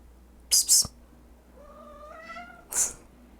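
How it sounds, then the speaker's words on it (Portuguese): A pet cat plays on the floor indoors, giving a drawn-out meow with rising harmonics in the middle, set between short bright rustling or scratching bursts near the start and end, close and fairly quiet. "se vocês estiverem escutando algum barulho, é o meu gato brincando aqui no chão"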